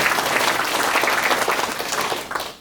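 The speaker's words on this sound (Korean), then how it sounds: "수고하신 군수님께 큰 박수로 환영해 주시기 바랍니다." An audience at a cultural center event in Muan gives a dense, loud round of applause welcoming the county governor, sustained and even before tapering off at the end.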